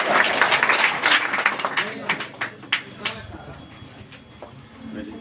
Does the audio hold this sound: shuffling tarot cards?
no